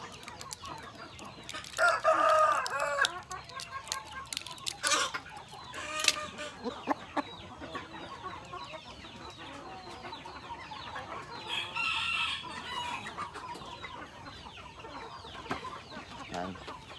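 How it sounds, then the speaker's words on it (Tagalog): A rooster crows and clucks on a farm, with a couple of loud crows among scattered nearer clucks and other fowl sounds in the background. "Ito naman yung alpha rooster natin."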